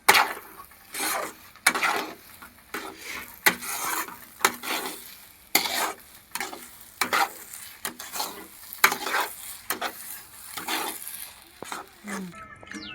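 Sweet sev being mixed with ghee in a pan, with a rhythmic series of spatula scrapes and knocks against the metal repeating steadily over a faint low sizzle.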